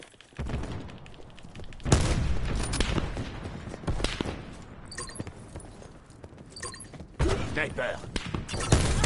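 Sniper gunfire in a tactical shooter match: several sharp, loud shots and impacts ring out in separate bursts over a busy game background, with voices talking in between.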